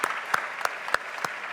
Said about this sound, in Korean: 우리 중보기도하는 지체들 위해서 우리 격려와 축복의 박수 하십시다